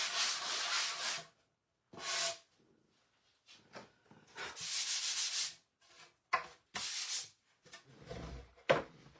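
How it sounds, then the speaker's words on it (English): A wooden board for a shelf leaner is hand-sanded in several quick passes: bursts of gritty rasping rubbing, close and moderately loud, broken by short pauses and softer strokes. "I like to give all my boards just a quick sand over."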